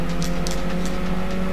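A race car engine in Gran Turismo 2 holds a steady, loud drone, with tonal engine harmonics running through it and a few brief higher-pitched bursts on top. No one speaks over it.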